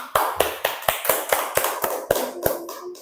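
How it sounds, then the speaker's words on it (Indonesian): Fifth-grade classroom of students clapping hands in unison, about a dozen sharp, evenly spaced claps at a steady rhythm, close and loud, with faint voices underneath. "Ya bagus, tepuk tangan."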